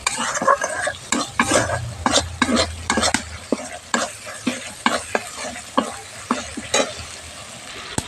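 Spices frying in a pan for a masala potato and brinjal curry, stirred hard with a dense run of quick scraping and clattering strokes over a continuous sizzle, loud and close, with no speech.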